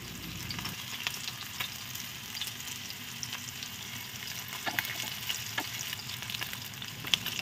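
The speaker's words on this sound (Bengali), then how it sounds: "এবার দ্বিতীয় পর্যায়ে আবার ওই একই রকমভাবে মাছগুলোকে ভেজে নিচ্ছি।" Fish frying in oil on low heat, a continuous soft sizzle and crackle with occasional light pops and faint utensil taps, close and alone without speech.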